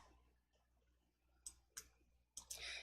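Several sharp, close mouse clicks on a computer while working in Excel, a few isolated taps over a quiet background.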